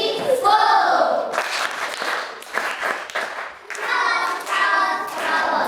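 Classroom audience applauding a child after a multiplication recitation, steady loud clapping from many hands lasting several seconds, with voices heard over it.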